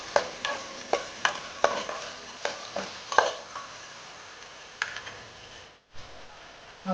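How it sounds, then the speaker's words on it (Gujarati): A spoon scrapes and stirs through green val bean curry in a pot, about a dozen distinct knocks and scrapes against the metal, then a softer patch of mixing and a brief pause before stirring resumes. "હવે ફરી મિક્સ કરી લઈશું"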